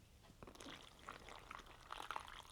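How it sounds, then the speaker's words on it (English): Water poured from close by into a small foil pouch of lemon-lime drink powder from a Polish combat ration, giving a soft, uneven trickle and splash that rises in bursts over a couple of seconds. "Let's get a little water in there."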